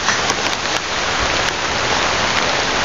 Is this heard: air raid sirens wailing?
no